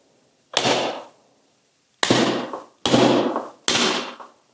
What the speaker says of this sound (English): We'll give it some good whacks.